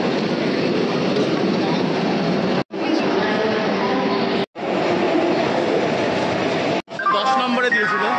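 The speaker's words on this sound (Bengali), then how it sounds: "দেখো লোকাল ট্রেন চলে গেল আগে" A local train passes close by on the railway, a loud sustained rattling roar of wheels and carriages broken by brief dropouts, with faint squealing near the end.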